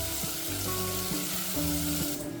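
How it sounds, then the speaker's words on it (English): Smoked lardons sizzle in their own fat in a saucepan on low heat, making a close, even crackle with soft shifting tones and no voices. "let's add 160 grams of smoked lardons straight to the saucepan on low heat"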